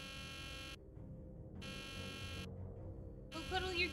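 Electronic alarm ringing in the Nancy Drew: The Deadly Device video game, a loud tonal buzz pulsing on and off in regular bursts of about a second, with a burst of game music or effects near the end.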